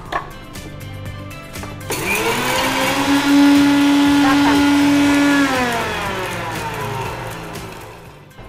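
A kitchen mixer grinder whirs loudly as spices are dry ground into coarse powder, the motor rising to a steady high whine that holds for a few seconds and then winds down, with people talking in the background.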